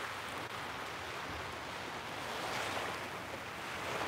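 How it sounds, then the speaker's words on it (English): Ocean waves wash steadily in a continuous broad roar, with surf rising slightly toward the end and a faint breeze in the background. "Soak in these beautiful colors, the sounds of the waves"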